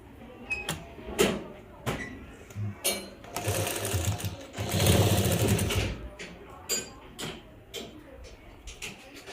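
A sewing machine stitches face mask fabric in short, uneven runs of rapid mechanical clatter, with one longer burst in the middle. Nearby handling knocks and clicks fall between the runs.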